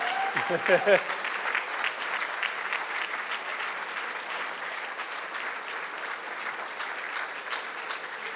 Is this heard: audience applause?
yes